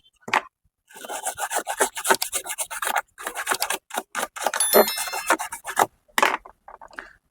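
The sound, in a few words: brush scrubbing a printer USB port clean with cleaner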